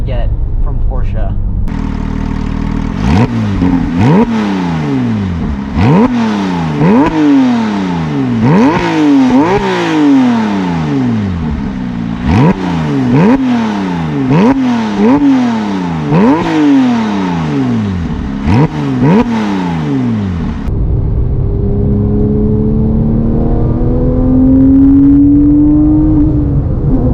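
A Porsche 997 GT3 with a 3.6-liter engine and six-speed manual revs up repeatedly through the gears from the driver's seat, rising and falling in pitch, then settles into a lower steady drone.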